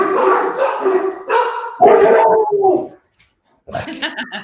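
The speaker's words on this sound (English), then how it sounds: "So anyway, I think we got all the dogs barking." Several dogs barking and howling together in irregular bursts, close and loud, with a short pause before a final round of yelps, heard during a rescue show about dogs.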